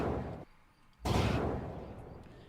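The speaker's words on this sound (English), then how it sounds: "Then give me 2 gunshots." Two sharp, booming gunshot effects, one near the start and a louder one about a second later, each trailing off.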